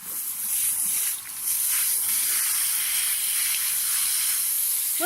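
A hose sprays water over a young green horse, a steady close hiss of spray that runs almost unbroken, with a short dip early on.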